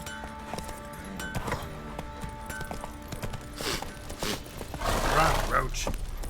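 Roach's hoofbeats clip-clop at a quick rhythm in The Witcher 3, joined by scattered clatter and ambient game sounds. A voice speaks over them.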